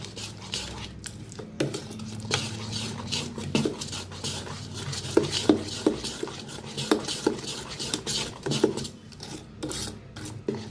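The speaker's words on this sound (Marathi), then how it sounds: "मिक्स करून घेऊया।" Chopped onion and green chilli are stirred into appe batter in a bowl, giving repeated close scraping and squelching strokes in an uneven rhythm, with no talk.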